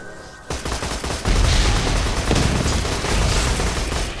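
Rocket launcher fire in the video game Borderlands 2: a dense barrage of booming blasts and rapid explosive bursts, loud and continuous after a sharp opening hit, with no talking.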